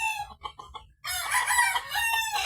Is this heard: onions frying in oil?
no